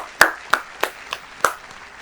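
A handful of sharp, isolated claps ring out one after another, about five distinct hand claps spaced unevenly in an otherwise quiet room.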